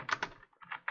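Short burst of typing on a computer keyboard while writing code comments in Java, a few quick close key clicks with a brief pause between them.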